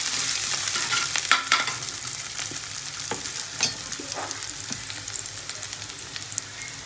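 Onion frying in a pan for pav bhaji, a steady hissing sizzle with occasional scraping stirs and light knocks, close-up and moderately loud, no voices.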